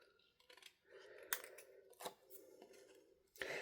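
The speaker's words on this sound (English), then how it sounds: "I just find it easier to tilt my scissors." Scissors snip through a sheet of acetate held at an angle while trimming overhanging edges in a papercraft embossing project, giving several crisp, close cuts at an uneven pace with quiet handling noise between them.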